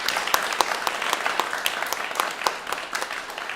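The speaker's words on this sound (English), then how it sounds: "can we give them a big round of applause?" An audience at the Splendor Amsterdam music venue gives a steady round of applause, dense crowd clapping with a few sharp individual claps standing out, continuous throughout.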